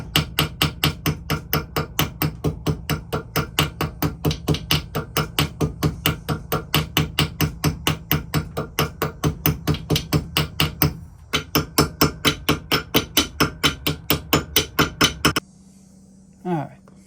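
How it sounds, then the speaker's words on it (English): A hammer taps a pin held in a vise, spreading its end into a small head while converting a knife: a long, steady run of sharp metallic strikes at a quick even rhythm, one brief pause, then a single faint thud after the hammering stops. "what we're going to do is just tap it out and give it a little temporary little head"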